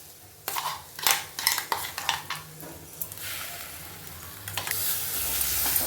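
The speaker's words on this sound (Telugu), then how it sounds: "దీన్ని బాగా వేపుకుందాము" Ground masala paste fries in a hot pan while a spoon scrapes and stirs it, sharp bursts of sizzling and clinks giving way to a softer steady hiss.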